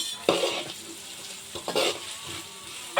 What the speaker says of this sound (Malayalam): നമ്മൾ കരിവേപ്പില വിതറി കൊടുക്കണം. ഇനി അതിട്ട് ഇളക്കണം.